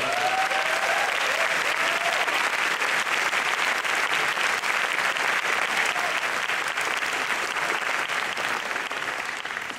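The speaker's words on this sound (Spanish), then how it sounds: "Un aplauso, por favor." Sustained, dense audience applause fills a jazz trio concert at a festival hall, loud and steady throughout with a broad wash of clapping hands and no talk.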